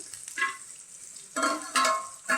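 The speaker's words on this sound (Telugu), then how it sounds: "ఉల్లిపాయలు కొంచెం దోరగా ఫ్రై అయ్యేంత వరకు" Chopped onions frying in a pan with green chillies for a drumstick curry, a soft steady sizzle with a few louder stirring scrapes near the end.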